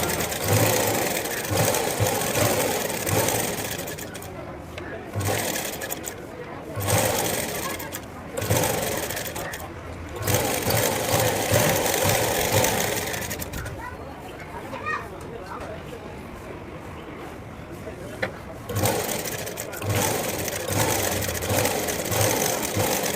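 Electric sewing machine stitching a plain blouse, a steady fast mechanical whirr running almost continuously with brief pauses, while someone talks over it.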